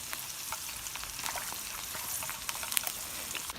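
Cattail leaves and caddisflies frying in a pan outdoors, a steady soft sizzle with scattered pops and crackles, fairly quiet and close with no voices.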